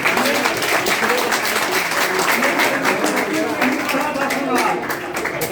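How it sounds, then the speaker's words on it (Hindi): A crowd at a farmers' leader's public address claps steadily in welcome, dense and fairly loud applause filling the whole stretch before easing slightly at the end. "इनका ताली बजाकर स्वागत करिए"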